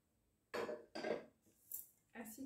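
Dry lentils for a Moroccan harira are tipped into a pot in four short, scraping, rattling bursts. Each is close and distinct, with brief quiet gaps between them.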